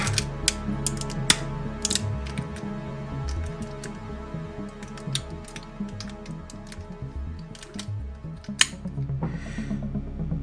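Plastic parts of a Robot Paradise RP-01 Acoustic Wave transformable robot toy click and ratchet as they are loosened, turned and folded, with a run of small sharp clicks and snaps close up and no voices.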